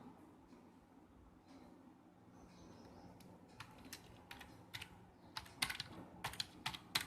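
Enter and Tab keys are pressed on a computer keyboard, sparse soft taps giving way to a busier run of sharp, close clicks over a quiet room background.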